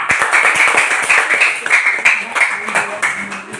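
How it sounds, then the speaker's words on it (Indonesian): A class of students claps for fellow student performers after their regional cultural presentation during a teaching practice session, a dense burst of applause with voices talking over it. "Berikan aplaus untuk mereka"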